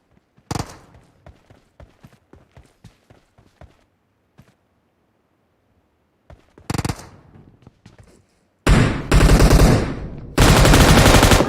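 Automatic golden machine gun firing in a team-match video game, long loud sustained bursts near the end after scattered light footsteps and single sharp shots.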